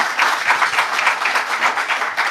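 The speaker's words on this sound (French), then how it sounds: "nous demandons au public d'applaudir bien pour nous remercier ce gouvernement" A crowd applauding, dense rapid clapping that stays steady and fairly loud for a couple of seconds.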